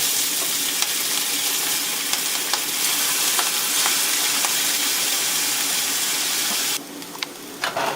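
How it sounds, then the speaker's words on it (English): Noodles crisping in peanut oil in a pan preheated over medium-high heat give a dense, loud sizzle with scattered spatula taps, easing noticeably near the end. "Cook the noodles to the amount of crispiness that you like."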